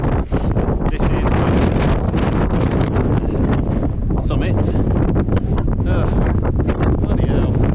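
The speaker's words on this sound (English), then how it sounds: "Stupidly windy." Strong wind buffets a microphone on a mountain summit in Yatsugatake, a loud, continuous roar with gusty bursts, and a voice speaks briefly beneath it.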